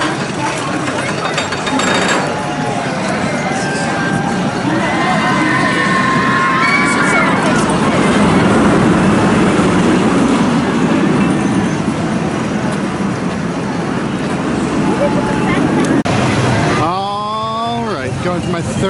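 Vortex roller coaster trains run at Kings Island on its closing day, several trains moving at once; a continuous roar of rolling cars and crowd noise with distant screams and cheering, ending in a brief shrill tonal sweep.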